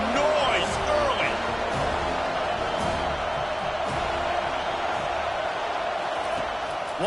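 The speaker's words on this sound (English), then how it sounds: "This crowd bringing the energy and noise early." A loud stadium crowd roars steadily at a Washington vs FSU football game, with a broadcast commentator talking over the din.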